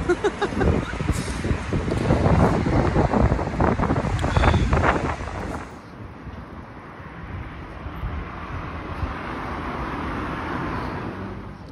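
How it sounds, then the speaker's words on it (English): Strong wind buffets the microphone in loud rumbling gusts, then settles to a steadier, softer blowing rush outdoors. "It's windy, making the most of having my hair blowing in the wind"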